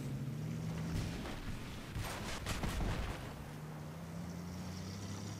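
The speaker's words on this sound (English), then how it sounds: "Just nearly missed a rocket attack there" A rocket explosion in Battlefield 3 on an Armored Kill map near tanks: a loud, rumbling boom with a burst of crackling blasts that swells and then settles back into continuous battlefield noise.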